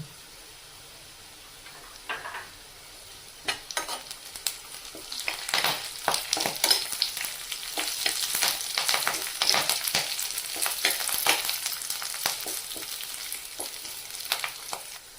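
Chopped garlic cloves and curry leaves frying in hot oil, a bright crackling sizzle that swells from quiet to loud and spattering, with stirring scrapes, close and steady.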